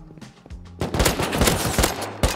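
An AK rifle fires in the survival video game Rust: a rapid automatic burst of sharp, loud gunshots with a few scattered shots before it, all near and alone.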